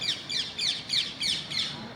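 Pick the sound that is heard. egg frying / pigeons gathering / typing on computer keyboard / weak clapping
pigeons gathering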